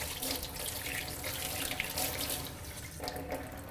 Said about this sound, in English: I'm going to rinse it under the hot water until all the bubbles are gone